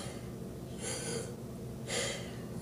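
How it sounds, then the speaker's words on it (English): Two slow, audible mouth breaths taken as a demonstration, each a soft airy rush close to the microphone, separated by a quiet pause. "When you breathe through the mouth,"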